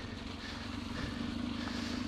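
An off-road motorcycle idles along a muddy, rain-soaked trail at low revs, its engine a steady, faint, low hum with no voices.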